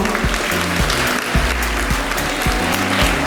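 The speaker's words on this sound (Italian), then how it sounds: "Un grande applauso" An audience applauds the Miss contestants at a Miss Mondo Italia beauty pageant stage in Arcole, Verona: a dense, steady wash of clapping, with rhythmic thumping music underneath.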